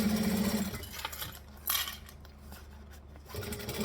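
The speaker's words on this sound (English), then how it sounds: "Pull it back, stitch it down and around." A sewing machine stitching a Dame bag runs in short bursts of rapid mechanical whirring, close, with pauses and a brief clatter in between.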